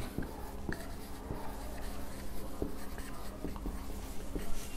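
Writing on a board during a physics lesson on equations of motion, a series of faint scattered taps and strokes over a steady room hiss, with no clear speech.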